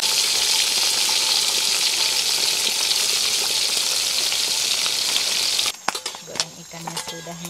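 Fish fries in hot oil in a pan, a loud, dense, close sizzle that holds steady for several seconds before cutting off, followed by a few clatters and a voice.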